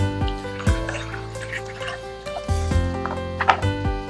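Thawed frozen broth pours into a bowl in a few separate splashing, gurgling bursts, close and moderately loud, with nobody speaking.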